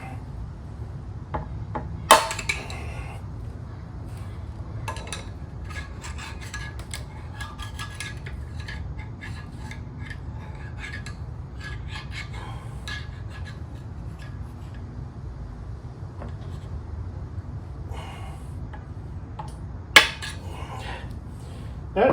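Metal-on-metal taps from a screwdriver being hammered against a Honda NC700X motorcycle wheel bearing in a workshop, scattered clinks with a couple of sharp louder strikes over a low background hum.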